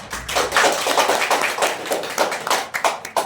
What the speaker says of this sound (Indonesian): Yuk, tepuk tangannya